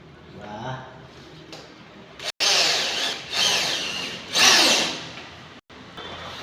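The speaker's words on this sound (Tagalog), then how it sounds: "Tapos lagyan natin tornilyo. Black screw." A power drill drives black screws into wood at a carpentry house project, with several close whirring bursts rising and stopping over a few seconds while someone speaks in Tagalog between them.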